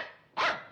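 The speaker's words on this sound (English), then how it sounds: "He barks once for yes and twice for no." A dog gives a single sharp bark, close and clear, after a brief quiet moment.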